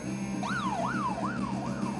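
A police siren wails in repeated rising and falling sweeps, heard at moderate distance over a low background hum in raw footage.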